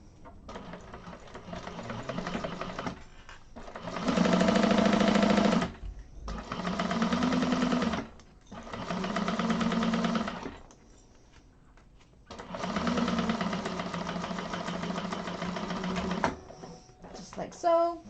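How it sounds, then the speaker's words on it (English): A sewing machine stitches across fabric in four separate loud, steady whirring bursts of one to four seconds each, close by, with pauses between and quiet talking around the runs. "And sew across."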